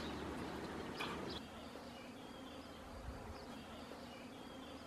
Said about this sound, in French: on voit que les abeilles sont en plein sur ce couloir à abeilles